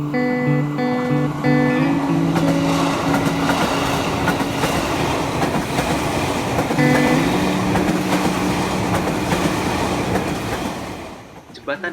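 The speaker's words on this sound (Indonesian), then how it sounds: "Jembatan ini merupakan sebuah jalur kereta aktif yang digunakan oleh kereta rel listrik" An electric commuter train rumbles across a railway bridge, close and loud, its steady wheel clatter and hum carrying throughout while a tonal horn-like whine rises and falls near the start and again midway, fading slightly at the end.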